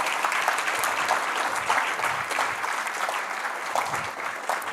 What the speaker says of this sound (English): a round of applause for Dr. Braffett, please.